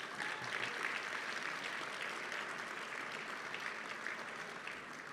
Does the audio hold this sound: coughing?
no